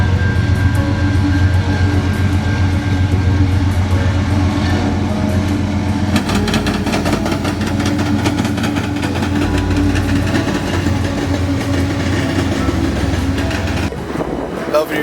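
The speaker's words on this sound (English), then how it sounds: "This should be a Southbound mixed freight with a CN leader and a city rail." A southbound mixed freight train led by a CN locomotive rumbles steadily past, loud and close, with engine drone and the clatter of cars rolling continuously throughout.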